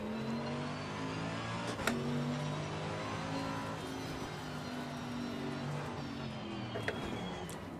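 A Mercedes-AMG race car engine in the video game Assetto Corsa Competizione, a sustained droning roar at steady revs with gentle pitch swells, broken by a couple of brief sharp clicks or curb knocks.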